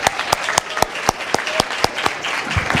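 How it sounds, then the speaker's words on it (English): An audience applauding the College of Pharmacy at a medical marijuana debate event, a dense round of clapping with distinct close claps standing out, loud and steady throughout. "let's give a round of applause for the College of Pharmacy for putting this on"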